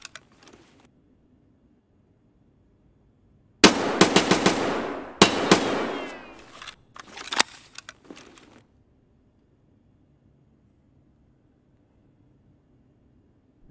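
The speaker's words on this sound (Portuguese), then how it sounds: "Eu vou dar um tiro pra eles saberem que eu tô aqui." Gunfire from an MP7 submachine gun in the shooter game Escape from Tarkov: a loud sudden burst of rapid shots followed by a few more sharp reports, then quiet, with little else around it.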